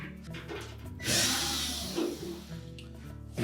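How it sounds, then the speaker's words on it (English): A power screwdriver backs screws out of the support piece on a Samsung dryer during duct heater replacement, one steady whirring burst of about a second and a half, close and moderately loud, with quiet handling noise before and after. "we'll remove this support piece by taking out 2 screws on either side"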